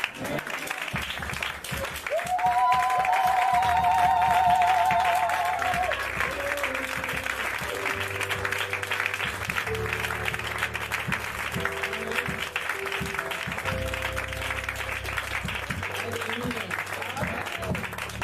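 A church congregation claps in praise of the Lord, a dense burst of applause swelling early then continuing under a voice that speaks over it, with held musical tones weaving through.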